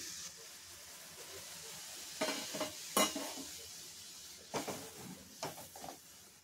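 A soft bubbling sizzle from masala simmering with water in a pan for paneer bhurji, with occasional spoon scrapes and knocks against the metal, close by and fairly quiet.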